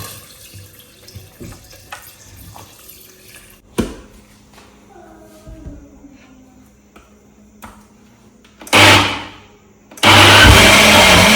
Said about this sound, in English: And then we'll add the water